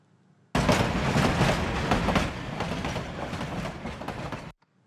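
Train wheels rattling in a click-clack rhythm, a dense loud rumbling clatter with rapid repeated clicks that starts abruptly after a near-silent moment, eases slightly midway and cuts off sharply at the end.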